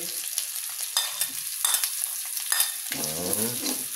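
Pork neck frying with garlic in a pan, a close steady sizzle with stirring scrapes and a few clatters, rising into a louder bubbling crackle near the end.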